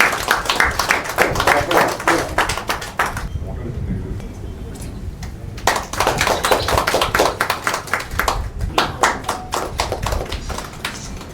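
Audience applause at an award ceremony honouring achievers, dense rhythmic hand clapping from a crowd that dips briefly midway then swells again, loud and close.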